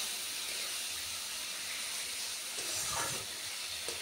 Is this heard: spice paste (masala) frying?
yes